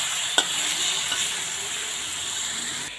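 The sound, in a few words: spicy sardines frying in a pan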